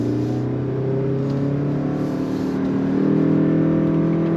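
A 2025 Toyota Crown all-wheel-drive midsize sedan accelerating on throttle, heard as a steady engine drone and road hum from inside that rises slightly in pitch and loudness toward the end, with no talk.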